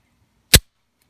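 A single sharp, loud report from a tiny-frame Kahr CW380 .380 pistol fired outdoors, one close crack lasting a fraction of a second with a quick decay and silence around it.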